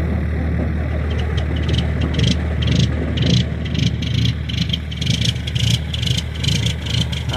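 A truck engine in cold weather rumbles steadily at idle, a continuous loud low drone with slight surges, close by and without talk.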